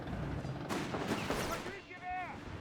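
Gunfire and artillery rumble in Company of Heroes 3 as a Panzer takes heavy fire from American forces, a dense continuous barrage of sharp bursts with a loud impact partway through.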